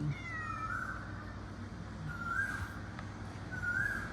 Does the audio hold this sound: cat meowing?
yes